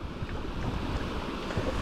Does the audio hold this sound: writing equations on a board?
no